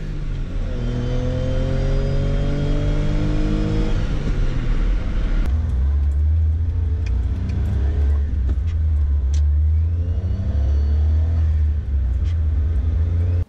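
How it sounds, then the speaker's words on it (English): Mazda Autozam AZ-1 gullwing kei car on the move, its small engine revving up through the gears with turbo whine and a buzzy exhaust note, then settling into a deep steady drone heard from inside the cabin. "the driver gets to hear lots of engine noise, turbo sounds, and exhaust notes"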